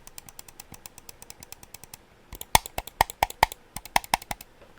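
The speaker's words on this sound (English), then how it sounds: "the clicks, like mouse clicks," Button clicks on a Vancer Thrash gaming mouse: faint scattered ticks give way to a string of sharp, crisp, close clicks in an uneven rhythm, with no voices.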